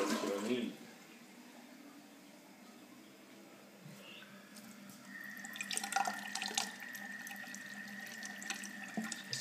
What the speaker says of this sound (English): It's dripping. Yes, it's water.